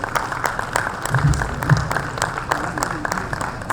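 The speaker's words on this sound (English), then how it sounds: "Can we have sir on the dais with a big round of applause," Applause from a conference audience as the moderator takes the dais at a corporate volunteering conclave, a steady patter of clapping with voices over it.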